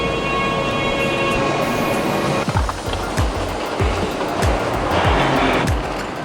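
A Trenitalia train pulls into Bologna Centrale station. A loud rolling rumble is broken by a series of rhythmic clacks as the wheels cross rail joints.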